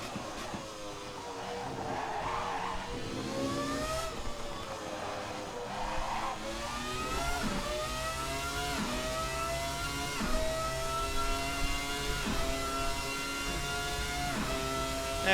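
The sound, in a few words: Ferrari F300 engine revving, video game Assetto Corsa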